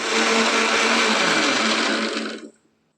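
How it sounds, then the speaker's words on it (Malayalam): Kitchen mixer grinder whirring loudly as it grinds grated coconut, a steady motor whine that holds for over two seconds and then cuts off abruptly into silence. "അത് മിക്സിയിലിട്ടൊന്ന് ആട്ടിയിട്ട് അതിലേക്കൊന്ന് ഒഴിക്കണം."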